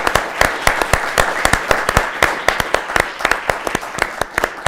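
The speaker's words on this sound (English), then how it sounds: "Can we give an applause to Michael?" Applause for Michael after a talk on music Mozart left unfinished: a small audience clapping, with sharp individual claps standing out over a continuous patter, close and fairly loud.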